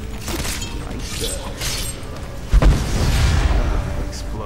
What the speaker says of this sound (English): explosion is just so satisfying.